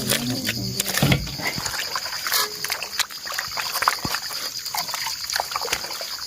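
Water trickles and splashes as food is washed by hand during outdoor cooking on a mountaintop, with uneven sloshes and drips and a few clunks close by.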